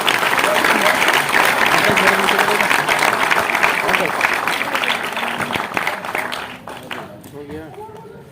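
Loud, dense applause from an audience at a film music launch ceremony fills the space, steady at first and then tapering off toward the end as a voice comes through.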